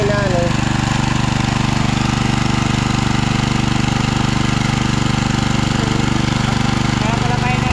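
A motor drones steadily and loudly throughout, an unbroken mechanical hum with faint voices in the background.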